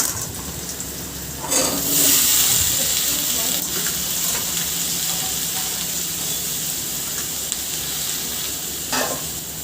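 Taro stolons being fried in a pan with softened onion and garlic, a steady close sizzle with a louder burst as the stolons go in and occasional stirring clinks, no talk.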